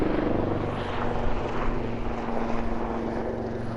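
An AgustaWestland AW159 Wildcat naval helicopter at an airshow produces a steady, loud, continuous rotor and turbine roar with a sustained whine, unchanging throughout and with no talk.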